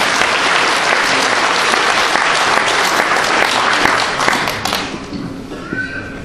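A large audience at a lecture event claps loudly in a dense, steady burst for the next speaker, a journalist and author, then the applause tapers off in the last couple of seconds.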